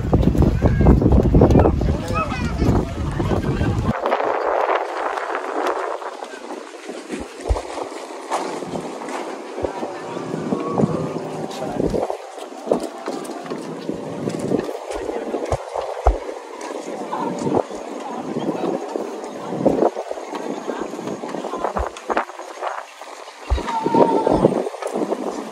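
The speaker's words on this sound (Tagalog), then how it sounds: "Wow, masarap na hangin." Steady wind rushes against the microphone during a boat crossing to Talim Island in Binangonan, Rizal, with a continuous engine and water drone underneath and people talking faintly in the background.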